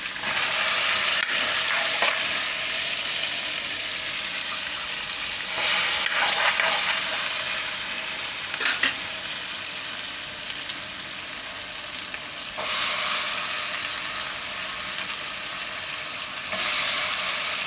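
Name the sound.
frying corn and chili flakes in butter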